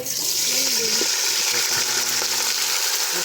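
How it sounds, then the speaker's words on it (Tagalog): Garlic sautés in a pan with a steady, close hiss and crackle of frying oil that runs throughout, while someone talks briefly over it. "Binigisa na yung bawang."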